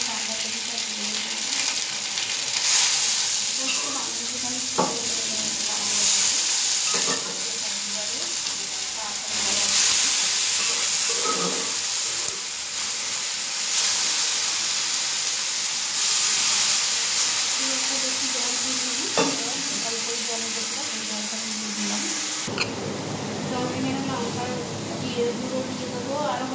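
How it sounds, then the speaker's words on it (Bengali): Ginger and cabbage fry in hot oil with a steady broad sizzle and hiss running throughout, broken by occasional clinks and stirring knocks and a voice speaking at times over it. "তেল গরম হয়ে গেছে, আমি আদাটা দিয়ে দেবো। বাঁধাকপিটা দিয়ে দেবো।"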